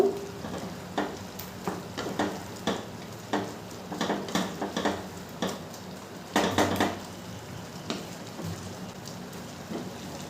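A metal spatula scrapes and knocks against a pan while pineapple chutney with lemon juice is stirred, giving irregular clinks and taps spaced over a soft, steady sizzling hiss.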